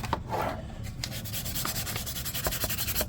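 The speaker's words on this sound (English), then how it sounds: "So right now, using 400 grit sandpaper." Steady hand sanding of a Predator mask with 400 grit sandpaper, a continuous close scratchy rubbing with repeated short strokes, heard alone.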